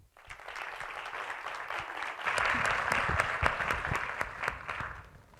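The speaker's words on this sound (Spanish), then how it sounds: "Un aplauso, por favor." An audience at a university talk on Chile's low-carbon economy applauds a guest speaker; dense clapping starts moderately, swells louder about midway, then keeps going with a few sharp individual claps standing out.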